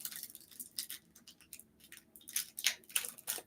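A sealed trading card foil pack being torn open by hand, close and quiet, with a series of short crinkly rips and rustles in irregular bursts, no talking.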